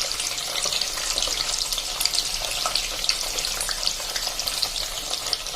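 Paneer cubes browning in oil over a medium flame for palak paneer, producing a continuous close sizzle with crackling pops scattered throughout and no voices.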